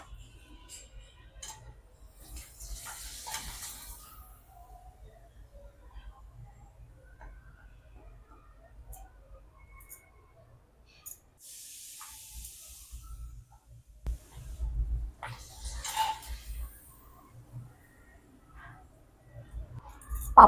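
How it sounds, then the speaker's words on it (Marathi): Udid and moong dal papad is fried in hot oil over medium heat, giving short bursts of faint sizzling and hissing with a few soft clinks in between, separated by quiet gaps. "पापड तळून बघूया"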